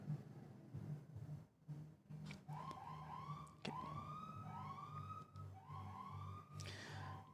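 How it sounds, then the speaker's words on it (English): An ambulance siren on a passing street rises and falls in repeated wailing sweeps over a steady low engine hum, moderately distant and sustained with no talk over it. "that's a ambulance that's driving down the street."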